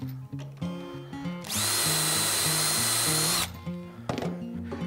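Power drill boring dowel holes in wood through a Woodpeckers Ultimate Doweling Jig, a steady loud whine for about two seconds with short tool clatter and bumps before and after.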